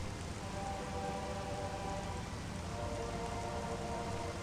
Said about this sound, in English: Even check how the rain is flowing off of the arm cannon, depending on where you're looking.